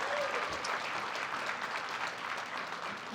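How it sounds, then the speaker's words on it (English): Indoor audience applause for a City Council President at a market grand opening, a dense, even patter of many hands clapping steadily throughout, fairly soft and distant. "How about a round of applause for our City Council President?"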